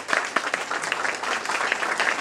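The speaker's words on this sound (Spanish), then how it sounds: "Un aplauso para ellos, por favor." An audience at a film-and-literature conference at a 2015 book fair applauds the speakers, with sustained dense clapping from many hands in a room, fairly loud and without talk.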